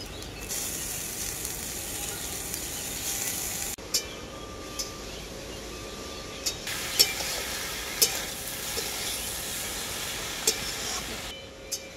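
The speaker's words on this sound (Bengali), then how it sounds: "আলু, বেগুন, বেতো শাকটা মশলার সাথে খুব ভালো করেই কষিয়ে নিলাম" Potato, brinjal and bathua greens are sautéed with spices in a pan, a continuous sizzle broken by sharp clinks and scrapes of a stirring spoon, briefly interrupted midway.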